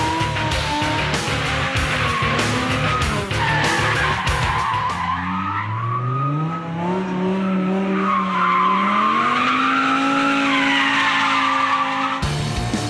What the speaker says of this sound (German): geht der H50 herrlich quer um die Ecke